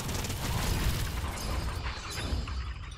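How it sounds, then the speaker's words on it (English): Minigun firing in Fortnite Save the World: a loud, continuous mechanical roar of rapid fire that holds steady for about three seconds and mixes with bursts and crackling impacts. "activate my minigun"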